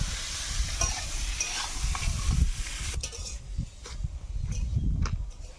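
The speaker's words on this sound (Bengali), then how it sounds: "কড়াইতে যা তেল আছে ওই তেলের মধ্যে আলুটা দেবো আলুটা ভালো করে ভেজে নেব" Potatoes fry in oil in a wok, a soft sizzle under repeated stirring with dull scraping and thumping of the utensil against the pan, fairly close and moderately loud, with no talking.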